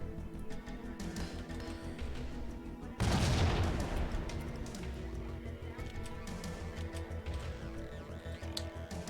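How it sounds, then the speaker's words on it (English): Grenade thrown at a landmine in the video game Max Payne 3, a sudden loud explosion that booms and then rolls off amid ongoing game gunfire and background noise. "I'm gonna throw a grenade"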